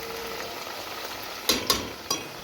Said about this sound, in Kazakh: Перецімізді, қиярымызды 1 минут қана қуырып аламыз.